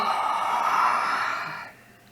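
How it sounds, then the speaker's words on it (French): A single long, deep yawn drawn out over about two seconds, fading into a soft exhale at the end. "Il bâilla profondément."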